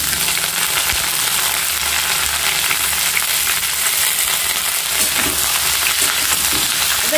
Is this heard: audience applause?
no